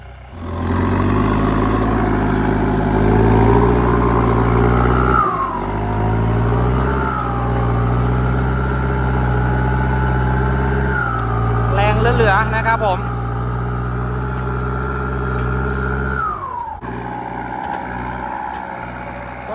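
Kubota M6240 tractor with a big turbo upgrade, its diesel engine running loud and close with a steady deep drone, rising in pitch several times as it revs and carrying a high turbo whine over the top.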